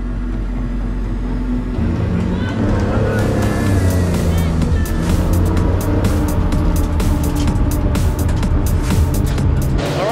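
A race car circles a track during a 24-hour endurance race, its engine droning loudly and steadily with sharp bursts of noise, while a voice talks over it.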